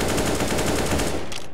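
Rapid automatic gunfire from a video game, a dense sustained burst of shots lasting over a second, loud and continuous before dropping off sharply at the end.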